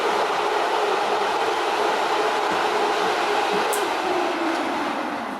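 Flyin' Miata Stage 2 V2 brushless airflow fan for a Miata running at full throttle, a steady loud broadband whoosh with a constant high whine, unbroken and alone throughout.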